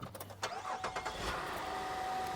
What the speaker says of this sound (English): We pressure washed an engine bay and it cranked right up